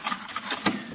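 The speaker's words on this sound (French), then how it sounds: "Donne un coup de gratte-gratte ici." A wooden beehive floor board is scraped clean with a hand scraper, giving close, dry rasping strokes in a steady back-and-forth rhythm.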